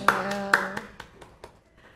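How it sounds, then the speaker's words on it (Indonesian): A handful of claps greet teacher Bu Esti on a podcast set, two sharp ones over a sung or voiced tone, then several softer, spaced claps fading out. "Tepuk tangan dulu dong."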